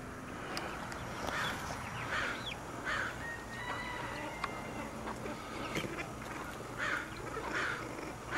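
A ring-necked pheasant calls repeatedly from a house roof by a pasture, giving harsh, rasping hollers at irregular intervals over a steady outdoor background, moderately distant.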